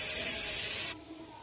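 Greens frying in oil in an open pan over low heat, a steady loud hiss that cuts off abruptly, leaving a faint quieter sizzle afterward.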